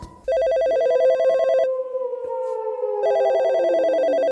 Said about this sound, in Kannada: ಆಗ ರಾತ್ರಿ 9 ಗಂಟೆಗೆ ಫೋನ್ ಹೊಡಿತು